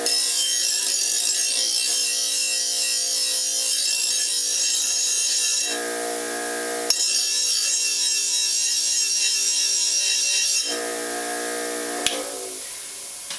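A Baldor 1/3 hp bench buffer polishing 16-gauge 1-inch square stainless steel tubing gives a loud, steady high whine and hiss, broken by two short dips where the workpiece comes off the wheel, with a few faint clicks.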